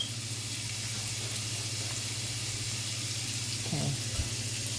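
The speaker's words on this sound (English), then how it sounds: "chop up your bacon and fry that till it come a golden brown also" Chopped bacon frying in a pan, a steady soft sizzle and crackle heard alone with a brief clatter near the end.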